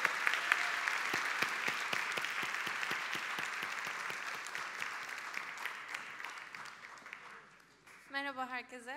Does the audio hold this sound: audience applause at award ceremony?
yes